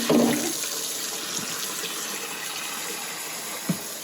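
Fresh water runs steadily from a tap into a sink for rinsing yarn dip-dyed with Kool-Aid, a continuous close splashing rush with a brief clunk near the end.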